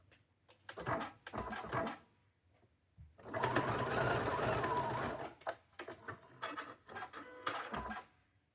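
Sewing machine stitching fabric pieces for a quilted chicken block, running in several bursts of rapid mechanical whirring, the longest lasting about two seconds, with short pauses and lighter stops between them.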